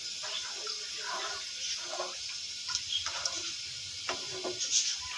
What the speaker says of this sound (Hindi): एक पाव दाल है इसलिए 2 गिलास पानी डालिएगा, ज़्यादा नहीं डालिएगा